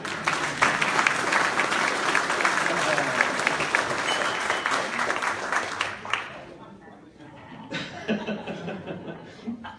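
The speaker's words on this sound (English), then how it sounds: "We can give a round of applause to our leader" Audience applause for Bill at his 80th birthday celebration, a dense, loud wash of many hands that carries on steadily, then drops away into quieter scattered clapping, chuckles and voices.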